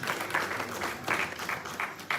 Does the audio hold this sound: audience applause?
yes